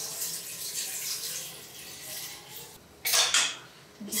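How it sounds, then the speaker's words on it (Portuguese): Hot water runs from a kitchen tap into the sink in a steady hissing stream, then louder splashing bursts near the end as the flow hits dishes or the basin. "água quente na pia"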